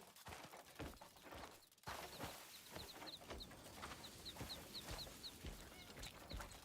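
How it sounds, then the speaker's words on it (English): Hen in the video game Crimson Desert clucks in a string of short, soft, evenly repeated calls over a low hum of game ambience and scattered rustles. "What is that? Oh, it's a hen."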